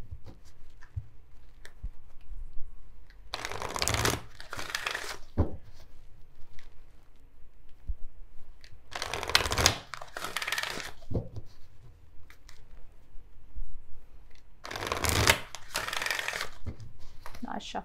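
Tarot cards being shuffled in three separate bursts of quick riffling flutter, close and crisp, with quiet pauses between each burst.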